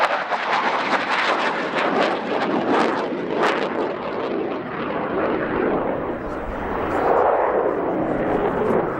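Military jet performing a max rate turn at roughly 7 to 9 G during an air show display at the Royal International Air Tattoo, a loud sustained roaring engine rumble that swells and fades as it passes, with faint announcer speech underneath.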